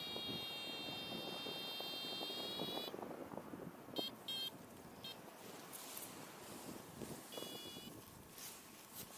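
A paragliding variometer over Mont Poupet beeps in short high tone bursts, a longer run first and then a few brief blips, faint against steady wind rush on the microphone.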